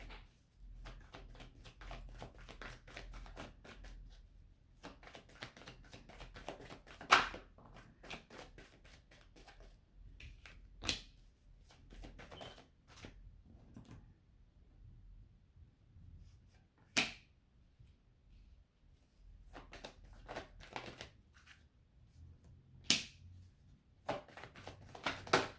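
A deck of tarot cards shuffled by hand in quiet, papery riffling spells, broken by sharp snapping riffles and short pauses, close up with no speech.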